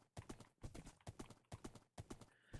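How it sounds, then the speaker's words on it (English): Horse hooves clip-clopping in a steady, repeated rhythm while a horse is ridden in the Minecraft video game, close and fairly loud with no talking. "He named this horse I'm currently riding"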